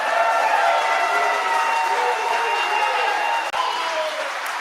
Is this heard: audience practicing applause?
yes